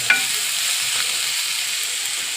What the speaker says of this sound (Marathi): थोडेसे मीठ पसरून घेऊ आणि छान असे फ्राय करून घेऊया.